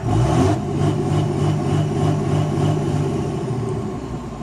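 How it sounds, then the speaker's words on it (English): Early third-generation Cummins diesel truck engine floored and held at the rev limiter, a loud steady drone with a faint rhythmic pulsing, close by, easing slightly at the end. "So here, if I just floor it, you watch the RPMs."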